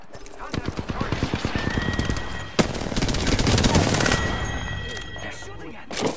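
Rapid automatic gunfire from the video game Apex Legends crackles in quick bursts, joined by a sharp blast and sustained loud shooting, with game voice chatter mixed in.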